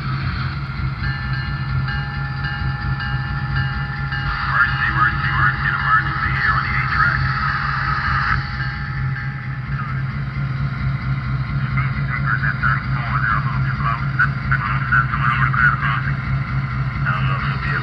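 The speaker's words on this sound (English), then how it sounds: "the Paragon 3 EMD NW2 SW7 switcher locomotive" A Paragon 3 model EMD NW2/SW7 switcher locomotive runs steadily with a low droning engine hum and faint clicking for the whole stretch, with a voice talking over it.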